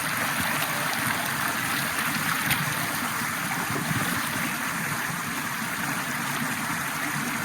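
Water flows steadily along a rainforest creek at night, a continuous close rushing and burbling that holds an even level throughout with no breaks.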